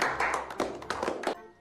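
A quick burst of several hand claps sounds close and bright, packed tightly over about a second and a half before fading out.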